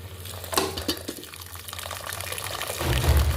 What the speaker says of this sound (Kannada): ಈಗ ಇದಕ್ಕೆ ನೀರು ಹಾಕ್ತೀನಿ